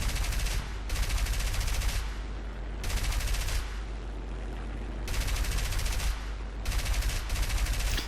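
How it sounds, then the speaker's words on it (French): Gunfire in War Thunder, bursts of rapid automatic fire about a second long, repeating in a loose rhythm with short gaps, over a steady low engine drone. "l'adversaire ne voit pas d'où viennent les tirs"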